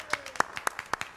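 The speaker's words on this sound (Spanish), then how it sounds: "Andy Dieguito, un aplauso" A few scattered hand claps for a composer on a talk show, sharp separate smacks in an uneven rhythm, fairly faint and with no talking.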